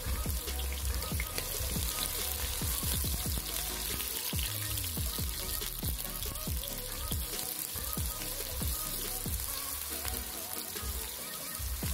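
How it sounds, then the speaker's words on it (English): Onions browning in a pan for a Kienyeji chicken stew, stirred as they fry: steady close sizzling with frequent sharp clicks and scrapes of the spoon against the pan, continuous throughout with no talking. "So I'll let them brown in color as I stir"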